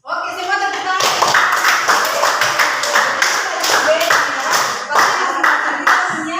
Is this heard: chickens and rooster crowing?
no